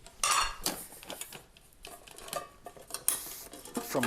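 Metal camping cookware from an MSR quick system clinks and scrapes as a pot is handled and set up, with a series of close, light clattering knocks and a sharper clink near the end, no talking.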